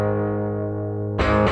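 Electric guitar played through an Ernie amp with distortion: a long, harmonically rich sustained chord, then a fresh, brighter strum near the end, loud and with no voice.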